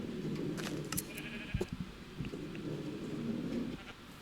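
Sheep bleating on a Minecraft farm holding around thirty animals, with a faint overlapping bleat or two and a few clicks over a steady game background hum.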